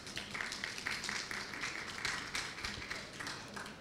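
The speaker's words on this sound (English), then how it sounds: "Let's give a round of applause for Rebecca and the panelists." Scattered applause from a small audience at an online session on nature-based solutions and climate adaptation, a thin steady patter of clapping lasting several seconds, faint and somewhat distant.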